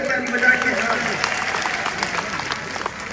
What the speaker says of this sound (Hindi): सब लोग इनको प्यार कर लो जोर से ताली बजा के